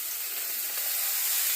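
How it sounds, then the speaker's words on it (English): Bacon sizzling in a frying pan, a steady close hiss and crackle of fat cooking that holds level throughout with no voices. "lay the meat away from you so you don't get it splattered"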